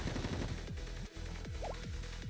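Rapid automatic gunfire bursts from a Blue Archive battle scene, loud and continuous with repeated sharp shots and whooshing effects layered over a dense, busy mix.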